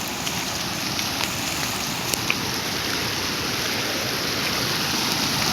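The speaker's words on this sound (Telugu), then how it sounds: "నీలంబావి రోడ్ అనాయపురానికి వచ్చే చెరువులోకి నీళ్ళు" Rainwater rushing steadily into a pond by a roadside, a continuous broad wash of flowing water with no break and no voices.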